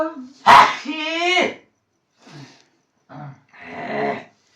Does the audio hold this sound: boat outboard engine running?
no